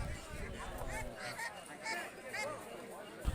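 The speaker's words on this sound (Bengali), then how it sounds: "রাজহাঁস থেকে পাতি হাঁস সব রকমের হাঁস এখানে পাওয়া যায়" Geese and ducks at a rural village market honk and squawk in repeated nearby calls over a steady murmur of market crowd noise.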